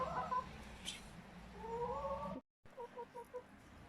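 Chickens cluck and squawk in short bursts nearby outdoors in snow, a brief break of silence, then a run of quick repeated clucks.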